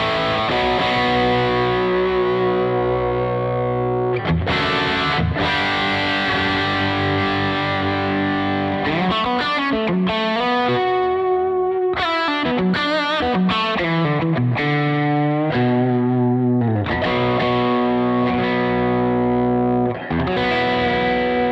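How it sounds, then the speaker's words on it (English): An electric guitar plays through a tube drive pedal with the gain a quarter of the way up, producing crunchy, harmonically rich overdriven chords and riffs that ring out loud and continuous with no talking. "let's turn the gain up to about 1/4 of the way up and hear how it sounds"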